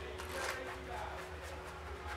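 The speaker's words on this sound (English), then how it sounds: "The deck is being shuffled" A deck of playing cards being shuffled, soft close riffling and flicking over a quiet low hum, brief and fairly faint.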